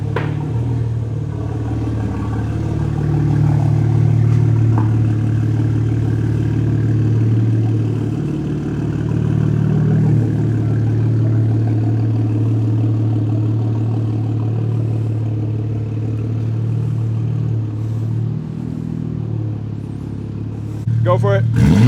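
Close, loud idle from a BMW G80 M3's S58 engine fitted with an ARM single mid-pipe exhaust, a deep steady rumble with slight swells that continues for over twenty seconds while people talk beside it.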